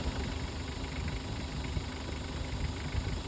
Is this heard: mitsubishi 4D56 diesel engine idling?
yes